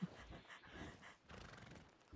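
A horse in a Western video game whinnies and snorts in a short, breathy burst, with soft hoof-like thuds beneath, fairly quiet throughout.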